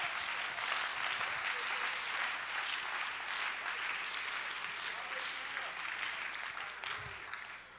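A church congregation claps their hands in sustained, dense applause that stays loud and close throughout, then eases slightly near the end.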